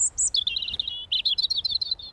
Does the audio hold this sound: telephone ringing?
no